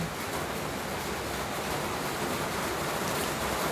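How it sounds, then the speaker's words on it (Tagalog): Heavy rain pours in a dense, unbroken hiss, loud and even from start to finish with no voices. "Oo, ang lakas ng ulan."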